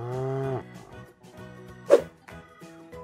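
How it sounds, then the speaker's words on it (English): A cow, an adult female of cattle, gives a deep drawn-out moo followed by shorter lowing calls, clear and fairly close with nothing else over it. "Next, a cow, the adult female of cattle."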